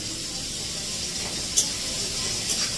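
Bay leaves sizzle in hot sunflower oil with a close, steady hiss and one or two small spits and pops, with no voices.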